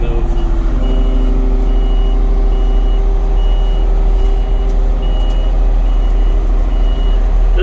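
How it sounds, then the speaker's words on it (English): A Kubota KX33 excavator travels with its alarm beeping at an even, regular pace, close by, over a constant loud engine rumble from inside the cab. "I'm in a cab of a Kubota KX33 excavator."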